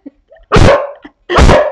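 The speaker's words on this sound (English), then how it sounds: "including my barking dog, which I should be able to do something about it." A dog barks twice, loud and close, each bark a full, rough burst about three quarters of a second apart, with a few faint yips and whimpers between them.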